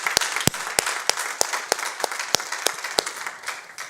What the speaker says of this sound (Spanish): yo quiero que te deje un aplauso